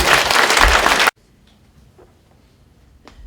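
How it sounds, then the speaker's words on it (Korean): A church congregation at a 2013 revival service gives a loud burst of applause that lasts about a second, then cuts off abruptly into near silence. "큰 박수로 축하해 주시기"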